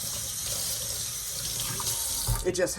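Gloves rinsed under a running kitchen sink faucet, a steady close splash of water with a brief burst of handling noise near the end.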